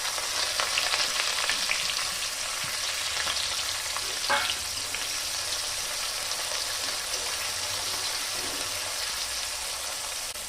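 Sliced onions fry in hot oil with spices for a cabbage chicken curry, making a steady close sizzle with a brief clatter near the middle and no voices.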